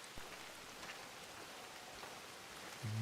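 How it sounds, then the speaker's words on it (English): Steady rain falls across an early-morning scene in the video game Red Dead Redemption 2, a soft continuous hiss of drops on surfaces, faint and even throughout with no voices. "There it is, early morning and the rain."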